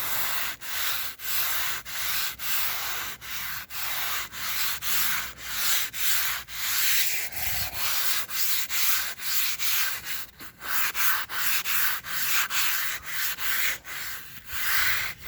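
Steel wool rubs the paint of a 1978 Chevy C10 truck in quick, even back-and-forth strokes, roughly two per second, a close, scratchy rhythmic sanding with a brief pause partway through.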